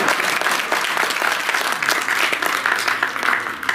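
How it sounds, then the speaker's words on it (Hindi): An audience at a poetry recital in a Delhi hospital claps continuously, a dense, lively patter of many hands that stays loud and even throughout. "डॉक्टर साहब धीरे धीरे ताली बजा रहे हैं"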